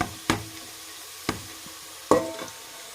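Onions being fried in a pan for bagara rice, with three sharp stirring or scraping knocks against the pan at irregular intervals over a quiet low sizzle.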